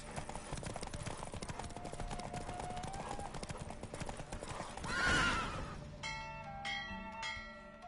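A horse gallops with fast, steady hoofbeats in The Witcher video game, then gives a loud whinny before the pounding fades and chiming bells ring out.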